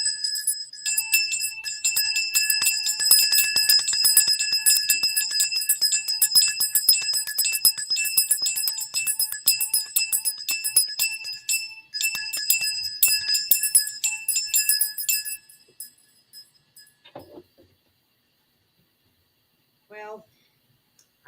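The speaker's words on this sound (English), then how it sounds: "So we better ring our bells, I guess." Several small hand bells ring rapidly and continuously for about fifteen seconds in a bright, shimmering jangle, then stop abruptly, leaving near silence with a couple of faint later sounds.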